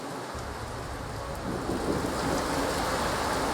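Heavy rain pours steadily over Ramanathapuram while thunder rumbles low beneath it, the downpour swelling a little louder partway through and holding as a dense, continuous roar.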